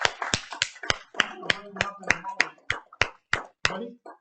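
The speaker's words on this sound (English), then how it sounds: "Give him a round of applause." Sparse applause at an evening company presentation: about a dozen sharp, evenly spaced claps, close and fairly quiet, like a handful of people or one person clapping.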